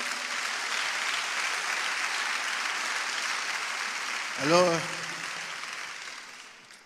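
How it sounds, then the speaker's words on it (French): A church congregation applauds a member during a service, broad sustained clapping under a voice, with a brief whistle-like vocal cry rising near the end as the applause fades out. "Il faut applaudir Waouh pour moi"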